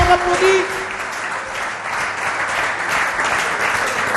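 Studio audience applause on a comedy talk show welcoming a guest, broad continuous clapping from a crowd, loud and steady, starting with a brief tonal note.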